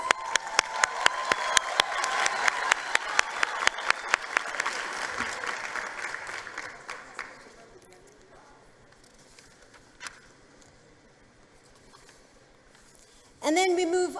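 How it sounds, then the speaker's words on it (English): Audience applauding at a 2023 matric results announcement ceremony, loud dense clapping for about seven seconds that then fades into a quiet hall with a brief renewed burst at the end. "Another round of applause."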